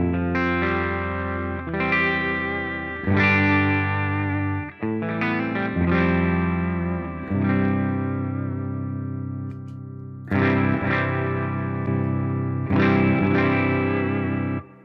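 Electric guitar through a Strymon Sunset dual overdrive pedal set as a clean boost strums ringing chords, first clean and then boosted, in several separate bursts with short gaps and a fuller, slightly thicker tone later.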